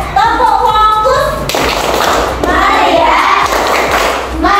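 A classroom group of students and teachers performs a rhythmic focus clapping chant, with crisp, close claps in patterned bursts mixed with voices chanting and speaking.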